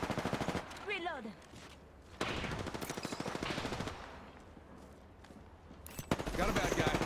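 Bursts of rapid automatic gunfire in Apex Legends, loud rattling volleys at the start, middle and end, with short spoken game-character lines between the bursts.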